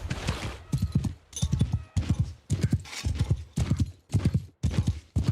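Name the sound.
horse galloping hooves in video game Warsails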